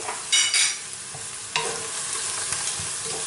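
A chickpea stew with judiones and smoked Vera paprika stirred in a pot over the lowest heat, giving quick scraping strokes and a soft sizzle up close, alone without talk.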